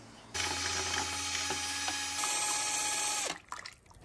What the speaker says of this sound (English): This drill is pretty weak, so I'm gonna upgrade.